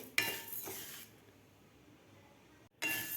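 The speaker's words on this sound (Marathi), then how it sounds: "व्यवस्थित हे तांदूळ भाजून घ्यायचे आहेत" Rice is dry-roasted in a metal pan, a Maharashtrian sajuri preparation. A spatula scrapes and stirs with rustling, clinking strokes, goes quiet for a moment, then resumes scraping, with no talking.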